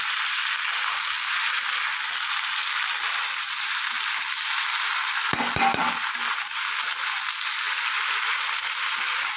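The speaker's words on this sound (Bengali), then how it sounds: "ভেজে রাখা ভেন্ডি আর আলুগুলো দিয়ে দেবো দিয়ে এবার মশলার সাথে কষিয়ে নেব" Fried okra and potatoes sauté with spices in a pan, making a steady, even sizzling hiss, broken by a brief cluster of scraping clicks midway.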